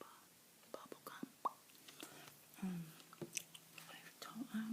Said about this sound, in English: Here's a bubble gum I'm chewing today,